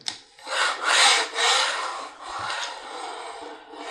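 Wheels of a Laing S3 camera slider roll along its rail, producing a loud, gritty rubbing hiss that swells and fades over several seconds as the carriage moves slowly, close up.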